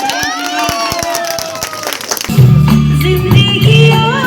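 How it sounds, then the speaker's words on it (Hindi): A crowd at a New Year 2024 celebration party claps loudly for a woman. The clapping swells under shouting voices, and loud music cuts in partway through. "मैडम के लिए जोरदार ताली हो जाए"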